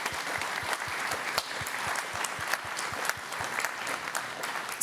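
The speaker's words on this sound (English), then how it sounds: "with your warm applause, please thank our wonderful panelists for a great discussion" Warm applause from a forum audience thanking the panelists after a discussion on Ukraine's reconstruction, steady dense clapping that holds throughout with no voices over it.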